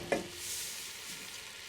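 Spoon stirring chili powder into a simmering spinach and chard curry, one short clink of the spoon then a steady soft sizzle and bubbling, close and quiet, no voices.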